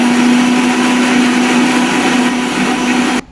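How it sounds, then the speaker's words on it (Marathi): Electric mixer grinder whirring continuously as it blends a chikoo milkshake, a loud, steady motor drone with a strong hum, cutting off abruptly at the end. "त्याला काय झालं मिक्सरला"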